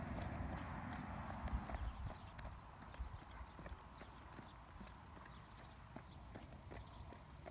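A mare's hooves clip-clop in a steady walking rhythm during a show warm-up, the hoofbeats fairly close and moderately loud at first, then growing fainter and more scattered over a background murmur.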